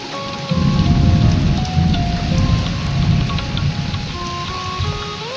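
Steady rain pours down throughout, a dense wash of falling water with a low rumble beneath it, and no voices.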